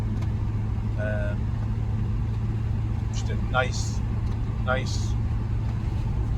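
A classic Vauxhall Velox on the road, its engine giving a steady, low drone with road rumble throughout, while someone talks over it in short remarks.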